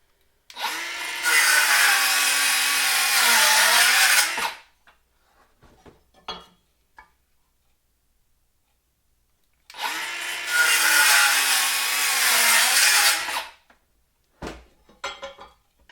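A Milwaukee 12-volt brushless power tool cutting into wood: two loud, steady whining bursts of about four seconds each, pitch dipping slightly as it bogs down, separated by quiet gaps with faint handling clatter.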